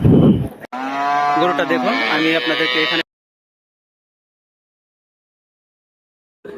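A cow at a village cattle market gives one loud, long, close moo lasting a couple of seconds. A short burst of sound comes just before it, then silence follows.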